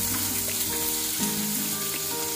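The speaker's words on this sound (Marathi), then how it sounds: "आपल्याला कांदा 2 मिनिट फक्त परतून घ्यायचा आहे।" Onion with cumin and mustard seeds fries in oil in a pan for sevai upma, giving a steady, close sizzle that runs the whole time, with a few soft stirring knocks and no speech.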